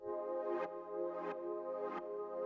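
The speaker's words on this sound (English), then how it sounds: "It's like a more side chainy kind of pad" A sustained, harmonically rich synth pad that swells and ducks in a steady pumping rhythm, three rises each cut off sharply, playing alone.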